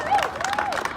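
Applause and cheering from a crowd at a rally for Corey Jones, a former executive director, held at a George Floyd anniversary event; one short burst of clapping with whoops and a voice sliding over it.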